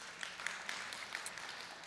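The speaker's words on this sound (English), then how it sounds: "Those are Christians clapping." A church audience claps together, a brief faint patter of many hands at a distance, the individual claps blurring into soft applause.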